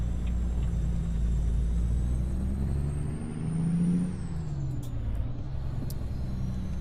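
Volvo VNL 670 truck pulling out of a snowy yard in American Truck Simulator, a steady low diesel rumble that swells briefly mid-clip, with a faint hiss and small clicks near the end.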